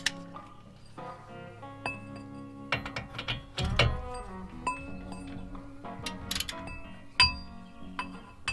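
A wrench loosens the lower brake caliper bolt on a Dodge Ram 2500 pickup, giving close ratchet clicks, metallic clinks and tool taps in uneven bursts, with no talking.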